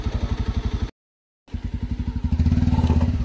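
A motorcycle's engine chugs in a rapid, regular putter as it rides a muddy road, cutting out briefly in a short silent gap before resuming and growing louder, with no talk.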